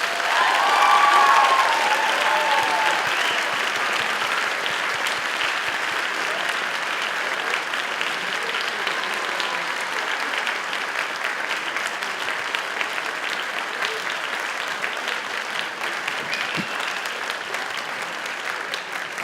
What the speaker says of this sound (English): Let's give our seniors a round of applause.